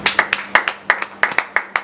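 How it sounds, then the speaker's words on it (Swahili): A church congregation at a Christmas service claps in a quick, uneven rhythm: about a dozen sharp, close claps in under two seconds, with nothing else heard. "Pigie Bwana Yesu makofi."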